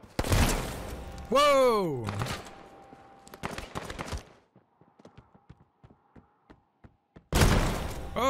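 Gunshots crack in Surviv.io, a few sharp bursts early and a louder one near the end, with a run of lighter rhythmic taps between them; a player shouts and talks over the action.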